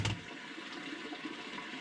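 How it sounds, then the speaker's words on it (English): Water gushing steadily from a French drain pipe into a sump pit, a loud continuous splashing like a small waterfall, heard close and alone. "it's like a waterfall coming down in there now"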